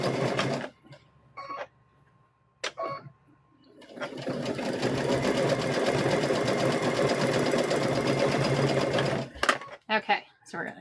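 A sewing machine stitches a welding hat in a steady, fast mechanical whir lasting several seconds, preceded and followed by a person talking and a few short clicks of the machine.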